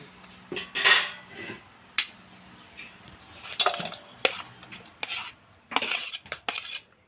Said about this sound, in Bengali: সবগুলো থেকে কিন্তু বীজটা এইভাবে ছাড়িয়ে নেব চামচ দিয়ে ছাড়ালে কিন্তু খুব সুন্দরভাবে ছাড়ানো যায়